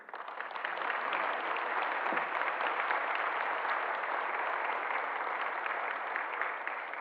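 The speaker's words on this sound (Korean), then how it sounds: "격려의 박수 부탁드립니다" A church congregation gives a steady round of encouraging applause during a Sunday service, a dense even wash of clapping that holds at one level from start to finish with no speech.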